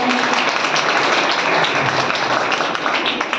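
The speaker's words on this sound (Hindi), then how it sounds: "एक बार जोरदार तालियों के साथ स्वागत करिए रिंकी जी का" Audience applause welcoming a speaker at an award event, dense and loud continuous clapping from a large crowd that holds steady for several seconds.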